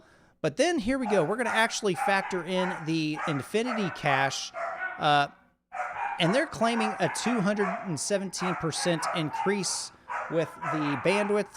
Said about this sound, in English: Sorry about the dogs, guys. They've been acting up all day.